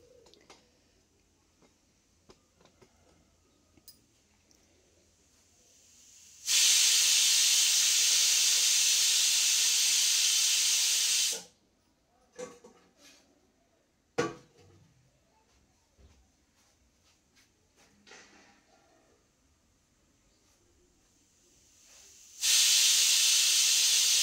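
A pressure cooker of ridge gourd and chana dal curry vents in two long, loud, steady steam hisses, separated by quieter kitchen clatter and small knocks.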